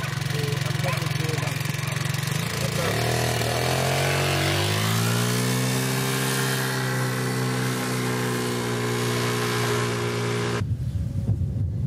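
A small enduro scooter idles nearby, revs up so its pitch climbs, holds a steady drone, then suddenly cuts out, with people talking around it.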